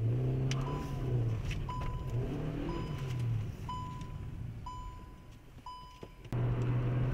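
A car engine hums at low volume while driving, with faint repeated electronic beeps over the engine noise and no talking.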